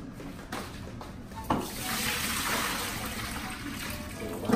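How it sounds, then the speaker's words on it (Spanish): Soaking water is poured out from a container holding dry cured beef in a home kitchen, a steady splashing rush that starts after a few soft knocks and runs on close by. "Voy a botar esta agua."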